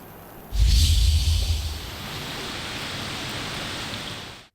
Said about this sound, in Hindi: गरज चमक के साथ तेज बारिश ने जल थल कर दिया